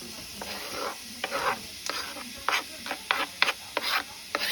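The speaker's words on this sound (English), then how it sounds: "So we're gonna get onions going." Onions for a holiday dressing are fried in a pan, a steady sizzle running under repeated scraping strokes of a spoon or spatula stirring them, close and moderately loud, with no talking.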